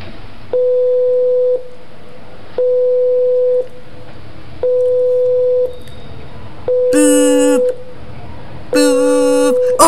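A Thyssenkrupp TWIN lift beeps repeatedly as it travels between floors, a loud regular sequence of long steady electronic tones about a second each, the last two harsher and buzzier.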